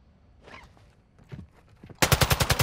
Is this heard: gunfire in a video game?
yes